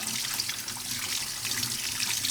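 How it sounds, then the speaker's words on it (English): Tap water pours steadily over garden snails being rinsed for escargot, a continuous close splashing rush with no pauses. "I'm just going to chuck them in here and run some water through."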